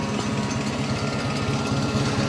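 An old tractor engine idles close by, a steady low rhythmic chug that runs evenly throughout with no voices.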